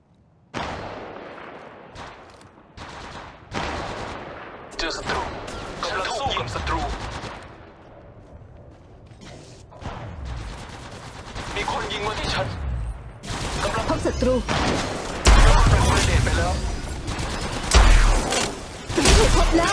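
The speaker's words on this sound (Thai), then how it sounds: "มีคนยิงมาที่ฉัน ฉันถูกยิงกำลังรีโหลด" Gunfire in the mobile battle royale game Apex Legends Mobile, with bursts of automatic fire, single shots and whooshing effects, some rapid and loud, under occasional talk.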